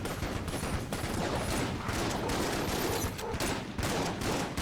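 Rapid gunfire from the game Enter the Gungeon, a fast, dense stream of shots that runs without a break and stays moderately loud throughout.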